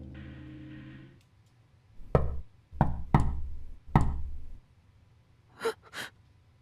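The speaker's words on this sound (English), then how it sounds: "Suddenly I heard a knock at the door." Knocking at a door in the visual novel Chaos;Child: a low hum stops, then four sharp, loud raps in an uneven rhythm, followed by two softer breathy gasp-like sounds.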